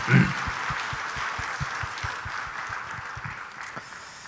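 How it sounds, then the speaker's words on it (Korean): A church congregation at a Sunday service applauds in blessing of summer Bible school, giving a moderate, steady wash of clapping with a brief louder burst at the start. "우리가 격려하며 축복합니다 하는 뜻으로 박수 한번 하겠습니다"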